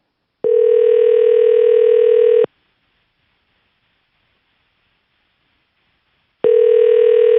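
Telephone ringback tone while a call waits to be answered: two long, steady electronic tones, separated by about four seconds of silence, loud and clear with no talking.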